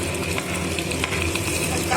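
Garlic, onion and green chilli frying in hot oil for chilli chicken give a steady, close, dense sizzle that crackles evenly for the whole stretch, with no voices.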